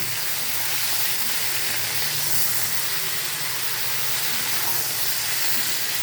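Okra (bhindi) frying in a pan while being gently stirred, a steady close hissing sizzle that runs evenly throughout without talk.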